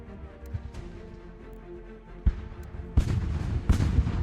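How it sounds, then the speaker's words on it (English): Cannons fire in the Ultimate General: American Revolution video game during an assault on a fort, with a few sharp booms in the first half and then a cluster of heavy, rumbling shots close together. "Okay, and their cannons are starting to fire."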